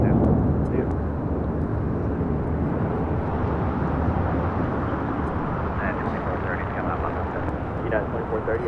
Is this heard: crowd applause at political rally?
no